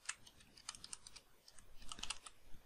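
A computer keyboard is tapped in quick clusters of crisp, close keystrokes, entering a shortcut in bursts with short pauses between.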